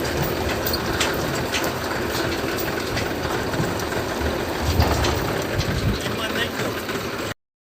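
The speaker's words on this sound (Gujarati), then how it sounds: "જો આ ટ્રેક્ટર ઉપાડ્યું છે, ટ્રેક્ટર ને લારી." A tractor pulling a trailer on a farm rumbles steadily nearby, its engine a continuous low drone with rattling, then cuts off abruptly at the end; a voice is heard faintly beneath.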